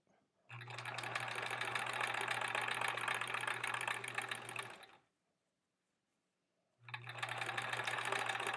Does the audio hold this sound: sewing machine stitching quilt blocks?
yes